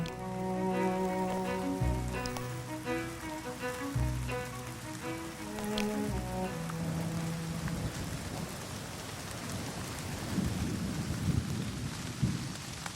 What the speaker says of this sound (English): Those who remain face the full force of the rain.